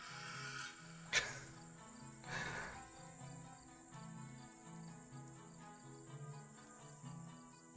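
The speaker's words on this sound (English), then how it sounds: "We've got some very noisy crickets." Steady, rhythmic cricket chirping fills the background, with a few brief louder rustles and clicks early on.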